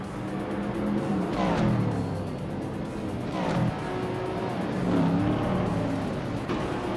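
Race cars including a 1970 AMC Javelin in Group 4 tear around the Batangas circuit in a racing game, engines revving and rising in pitch as several cars pass in waves, loud and continuous with no talk.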